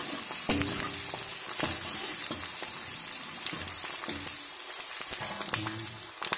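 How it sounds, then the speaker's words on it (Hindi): Onions fry in oil in a pan for a capsicum curry, with a dense close sizzle and repeated scraping strokes of a spoon every second or so, and no voices. "प्याज को बिल्कुल अच्छे से फ्राई करना है"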